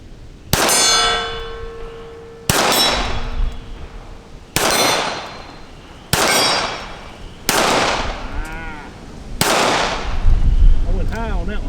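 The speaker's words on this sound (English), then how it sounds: "All right, let's do a little shooting." A Colt Cobra revolver fires six sharp, loud shots at an outdoor range, evenly spaced about two seconds apart, each followed by a ringing decay.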